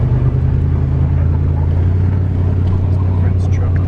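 A friend's truck idles nearby on a snowy moonlit night, its steady low engine rumble running continuously throughout, with faint breathy voice sounds over it.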